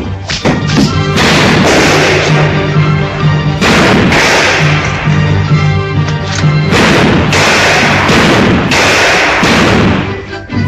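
Gunshots in a western film fire in loud, sharp bursts, some rapid and clustered and others spaced apart, with booming echoes between them.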